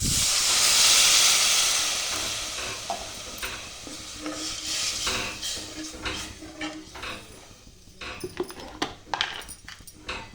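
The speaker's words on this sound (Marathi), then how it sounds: "परतून झालं की अर्धा तांबे गरम पाणी टाका" Hot water poured into a hot pan of sautéed chickpea-leaf bhaji bursts into a loud hiss of steam that gradually fades, followed by bubbling and irregular stirring clatter.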